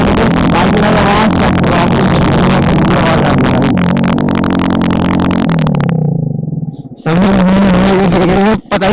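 A Honda Splendor motorcycle with an Akrapovic exhaust revs loudly and close up, its engine note climbing and holding before cutting out briefly, then roaring back, while a rider talks over it.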